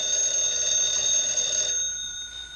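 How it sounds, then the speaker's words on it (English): In a 1955 film scene, a telephone rings with a steady, fairly loud electric bell tone that stops partway through, leaving quiet room tone with no voices. "Get that phone, Eddie."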